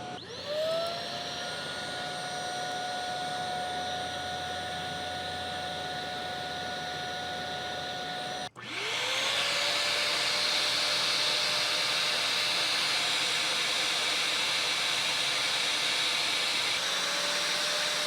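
Pet carpet cleaners, a uwant and a Bissell Little Green, running one after another: a loud steady whooshing motor roar with a high whine, a brief cutoff near the middle, then the second machine spinning up louder, no talking.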